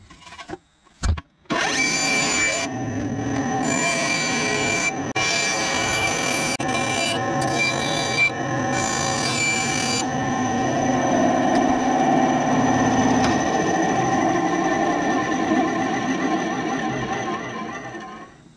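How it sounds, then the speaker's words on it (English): A bandsaw runs steadily while cutting the diving lip for a 7.5-inch Tennessee Shad musky fishing lure, a loud continuous whine and grind with a few short bursts at the start, tailing off near the end. "So we're going to get this cut on the bandsaw right now."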